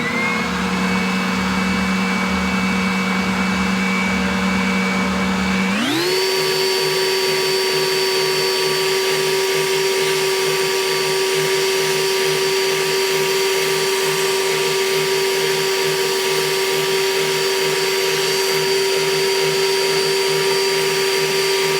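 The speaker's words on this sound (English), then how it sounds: "I turn on my dust collector." A workshop dust collector switches on about six seconds in, its motor rising in pitch to a loud, steady whine with a low hum that runs unbroken to the end, no voices over it.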